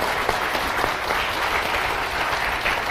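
Steady, dense audience applause fills a talk concert hall on political reform, a full crowd clapping continuously and evenly at close range for the whole stretch, with no talk over it.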